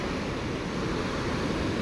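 Rough sea waves at Kozhikode beach in Kerala wash in as a continuous broadband surf rush, steady and fairly loud, with wind noise and no voices.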